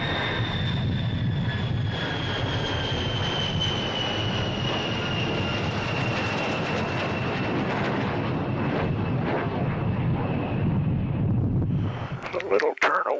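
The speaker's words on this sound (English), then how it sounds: "The B-52 flies to the correct tactical altitude and aligns with the chosen release point, ready to deploy the X-51 Waverider." B-52 bomber in flight carrying an X-51 Waverider hypersonic test vehicle: a loud, steady engine roar and rushing drone with a slowly falling whine, ending in a brief clatter.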